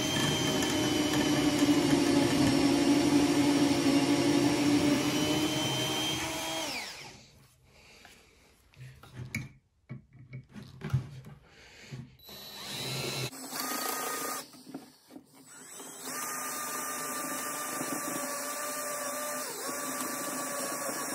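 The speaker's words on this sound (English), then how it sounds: "so we'll drill them out and tap them" A power drill bores out end cap screw holes, whining loud and steady for about seven seconds, then stopping and starting in shorter bursts before running continuously again.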